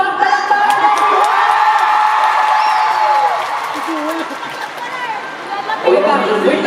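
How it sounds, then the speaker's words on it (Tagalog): A fan crowd at an SB19 Thanksgiving meet-and-greet event cheers, shouts and claps loudly and continuously, with voices chattering and calling out over the noise. "Kulang sa palakpak, palakpak!"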